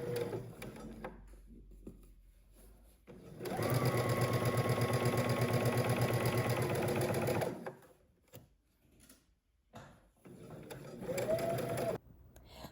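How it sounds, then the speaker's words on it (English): Sewing machine stitching a 5/8-inch seam on a top, a loud, close, steady whirring run of about four seconds after brief handling noises, then a shorter second burst. "Now we're going to go ahead and stitch across using 5/8 of an inch seam allowance."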